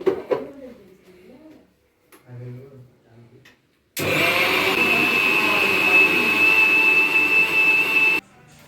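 A mixer grinder runs loudly and steadily for about four seconds, grinding coconut and garlic into a paste with a high whine, and cuts off abruptly after a stretch of talking that comes before it.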